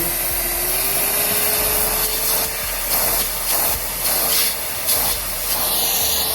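EGO 9 gallon cordless wet/dry shop vac running at its second speed, a loud steady whooshing motor hiss with a faint whine, air roar pulsing slightly as the hose moves, no speech.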